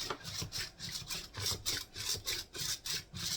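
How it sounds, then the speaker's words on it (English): A new whisk beating a buttermilk mixture for oatmeal quick bread, giving a steady rhythmic scraping swish, about three strokes per second, close and continuous. "So I'm going to use my cool new whisk here that my friend got me"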